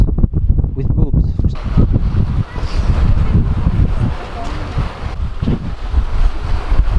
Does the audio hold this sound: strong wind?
yes